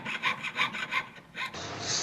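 A jeweler's saw cuts metal with a rhythmic back-and-forth rasping, about seven quick strokes close by, then a brighter hiss at the end, with no voices.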